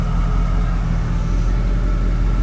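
Engine of a 1936 Ford Deluxe idling just after a cold start, a steady low rumble with a faint hum, close and continuous with no voices.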